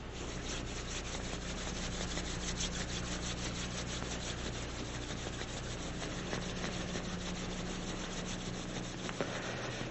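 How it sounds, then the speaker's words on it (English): Hands rubbing together briskly in a steady rhythmic swish that runs throughout, close and even, with a faint low hum underneath and no speech. "Now, rub your hands."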